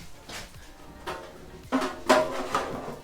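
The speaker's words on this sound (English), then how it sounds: "it's a household stainless steel sink, but it's like a deep dish sink" A deep-bowl household stainless steel sink is handled, giving a few hollow metallic knocks and thuds spaced irregularly, close by, with a resonant ring on the louder hits.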